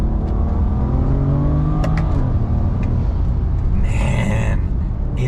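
Street car with a drag race transmission tune accelerating hard, engine droning loud and close, with sharp gear shifts breaking the climbing revs and a burst of whine near the end.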